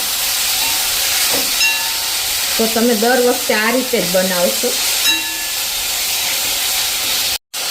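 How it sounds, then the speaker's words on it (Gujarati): Squeezed, salted cabbage hits hot tempering in a pan over a medium flame for Gujarati cabbage sambharo, giving a steady loud sizzle and hiss throughout while a person talks over it. "હવે જે આપણે આ મીઠું પાણી કાઢેલી કોબીજ છે ને એને પણ આમાં નાખી દેશું"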